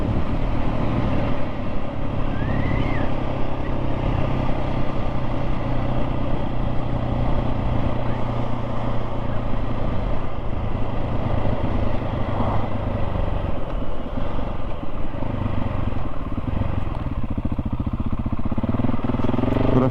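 A KTM 690 SMC-R single-cylinder motorcycle being ridden with gear shifts, its engine droning loud and continuous throughout with steady rumble and slight shifts in pitch, heard alone with no talk.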